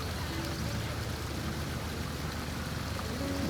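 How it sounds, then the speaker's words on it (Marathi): Light, fine rain falls steadily in a rural Konkan village during rice-planting season, a soft continuous hiss of drizzle with no voices, even and unbroken throughout. "पाऊस पडेल आता मला वाटतोय. बारीक बारीक पडतो."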